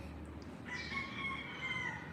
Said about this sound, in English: That rooster's crowing like crazy.